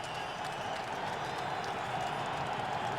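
Steady, dense stadium crowd roar at an NFL football game, Dolphins at Patriots in 2002, a continuous wash of noise without clear breaks.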